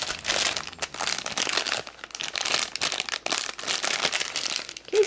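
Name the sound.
opening a crinkly blind bag of a miniature toy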